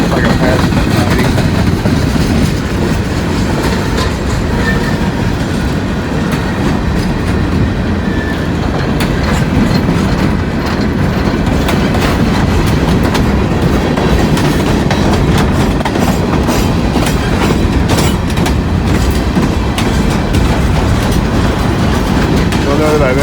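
Clean-painted I&O freight locomotives and their cars roll steadily past in daylight, a loud, continuous rumble with rhythmic clickety-clack of wheels over rail joints and a faint squeal, close by throughout.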